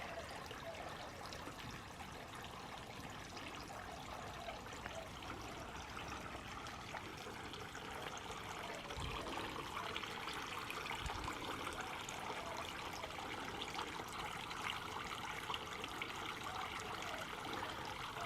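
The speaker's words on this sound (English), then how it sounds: "So now we will have the beautiful sounds of trickling water in the backyard while pottering around out here." A solar-powered garden water feature in a cottage backyard gives a steady, gentle trickle of water, soft and continuous throughout with faint outdoor background and no speech.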